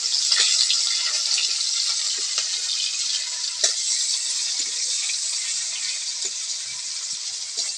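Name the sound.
kalonji and chopped onion sizzling in hot oil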